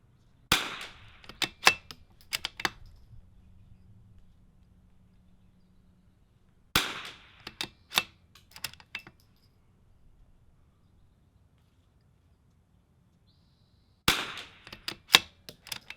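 Sharp rifle shots from a Vudoo 360 rimfire build with a MullerWorks 25-inch barrel, firing Lapua Center X ammunition at an outdoor range, coming in three widely spaced bursts of several close cracks each, loud and near, with quiet pauses between.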